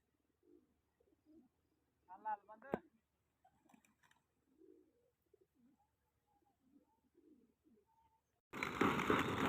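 Pigeons coo faintly amid scattered nearby voices during a pigeon-flying contest, then a sudden loud rush of flapping wings closes the clip as the birds take off.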